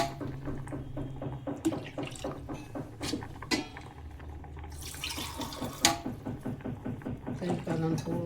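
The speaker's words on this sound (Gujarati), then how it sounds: "ત્રણ પાલા પાણી નાખીશું" Water is poured into a spiced dal mixture for Gujarati dal dhokli, gushing and splashing in uneven bursts close by while a voice speaks intermittently.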